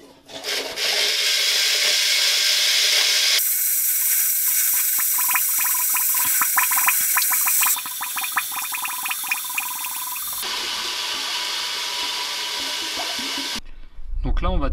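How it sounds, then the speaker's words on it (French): Eco-friendly drain cleaner poured into a clogged toilet bowl, with a steady rushing, splashing pour of liquid that shifts in texture partway through and then stops abruptly near the end. "je vais mettre carrément le débouche-tout à l'intérieur"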